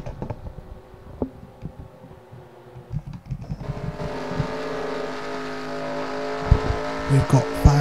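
Race cars roar around Darlington in the NASCAR Racing 2003 video game, engines droning and rising in pitch as cars pass, with a commentator talking and faint clicks underneath.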